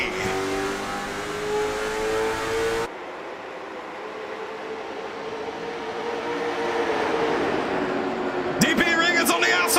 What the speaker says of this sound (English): Green flag racing back underway.